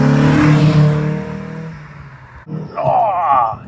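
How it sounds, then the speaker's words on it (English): Exhaust howl from a VW Golf GTI Mk2 hot hatch with a 112-horsepower engine, a rising engine note under acceleration that comes in strongly in the second half after a stretch of speech, fairly close and loud. "It's got a lovely little howl to the exhaust."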